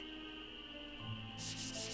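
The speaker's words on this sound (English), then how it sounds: "I need to go sand these statues in the cabin" Sandpaper rubbed over statues in a cabin in the Nancy Drew game Ghost Dogs of Moon Lake: coarse, repeated scraping strokes come in loudly near the end over steady game music.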